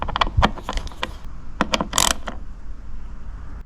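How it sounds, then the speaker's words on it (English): Ratchet tightening the fixing that holds the scuttle trim on a 2008 Smart Fortwo 451, heard as a close burst of quick clicking and mechanical ratcheting strokes in the first two seconds, then fading to quiet room tone. "Tighten the fixing that secures this scuttle trim."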